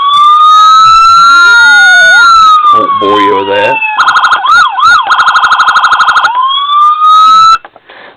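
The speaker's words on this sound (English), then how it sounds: "Siren, press the button, goes through the different patterns." A loud electronic siren from a 1:18 scale diecast Ford Explorer police model cycles through several patterns, sweeping wails, rapid yelps and warbles, then a person briefly speaks as it cuts off.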